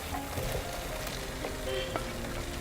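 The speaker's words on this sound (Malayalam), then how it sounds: "ഇനി നമുക്കിതിലേക്ക് തക്കാളി ചേർത്ത് കൊടുക്കാം." Three medium tomatoes tipped into a frying chicken masala paste sizzle loudly and continuously, with a few stirring clicks and pops close by.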